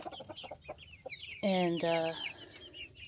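Young Buff Orpington hens cluck and call close by, with soft clucks and a sustained squawk, while a person speaks over them.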